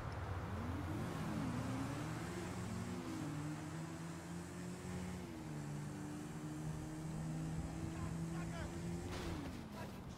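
A four-wheeler's engine revs steadily on the interstate in a video game, its pitch sliding up and down as the throttle changes, with a constant loud drone and some talk over it.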